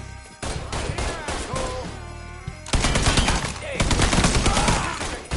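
Rapid bursts of automatic gunfire and explosions in a PS4 shooter game, loud and continuous with dense overlapping shots and a brief lull, voices faintly mixed in.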